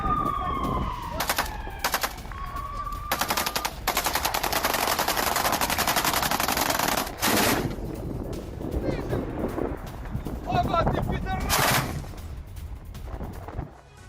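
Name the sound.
anti-aircraft gunfire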